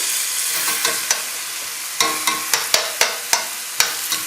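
Vegetables sauté in a pan over high flame with a steady sizzle, while a spatula strikes the pan in a run of sharp, close clacks spaced about every quarter second in the second half.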